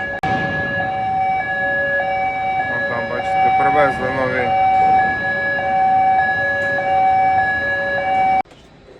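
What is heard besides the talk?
siren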